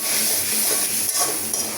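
Food sizzles in a pan with a little oil while being stirred, a steady close hiss and crackle with soft scraping throughout.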